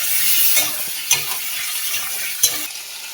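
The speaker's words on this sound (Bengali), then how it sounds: "পেঁয়াজ বাটাটা দিয়ে দেবো, দিয়ে ভালো করে কষিয়ে নেব।" Fried potatoes and onion paste sizzle in a pan while a spoon stirs them, with soft continuous frying punctuated by a few sharp scraping clanks of the utensil against the pan, close and alone.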